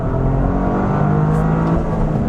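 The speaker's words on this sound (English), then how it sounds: "you get the blow-off valve sounds great in this as well" A loud, steady turbocharged engine of a 2023 Toyota GR Corolla with manual gearbox droning and whirring continuously up close; no distinct blow-off valve hiss stands out.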